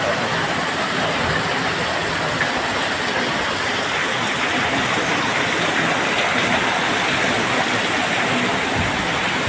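Downpour with gusting wind near a rooftop terrace, a thick, unbroken roar of falling water with faint surges, loud and close, no one speaking.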